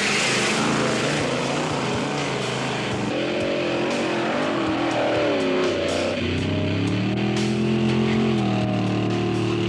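A truck's engine labours and revs steadily under heavy load while towing a dump truck full of wet dirt during a 1998 truck towing challenge, loud and continuous with rising and falling tones and no talk.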